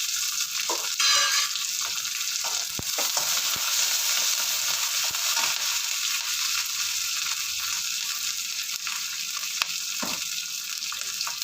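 Curry leaves and green chilies frying in hot oil for rasam, a loud, steady close-up sizzle with occasional crackles and a few stirring scrapes throughout.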